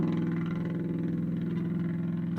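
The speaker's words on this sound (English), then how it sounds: "That did not sound healthy. That V8 did not sound happy." A V8 engine running rough with a missing exhaust pipe gives a loud, steady, throbbing drone that holds close and unbroken for the whole stretch.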